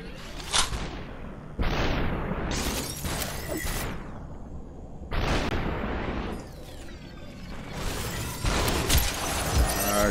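Gunfire in Superhot: several loud, close blasts spaced a few seconds apart, each a heavy burst with a rushing, swelling tail, no voices over them.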